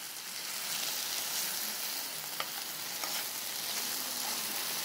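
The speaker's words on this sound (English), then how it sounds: "so just want to simmer down in this saltfish a little bit and the vinegar" Saltfish simmers in a pan with vinegar and black pepper in very little oil, giving a steady close sizzle with a couple of sharp crackles popping through.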